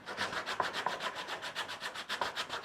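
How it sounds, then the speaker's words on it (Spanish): Sandpaper rubs rhythmically over a wooden part of a homemade 1950s children's wooden go-kart, about two strokes per second, close and steady, with no talking. "Y después mataremos también con la lija."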